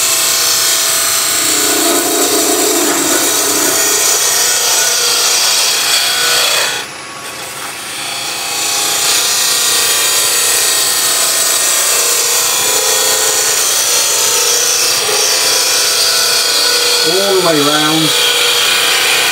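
A wood lathe spins wooden fruit while a thick bowl gouge cuts, giving a steady loud scraping hiss with a brief dip midway, under occasional talk.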